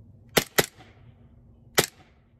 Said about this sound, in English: I had no idea green gas guns were this freaking loud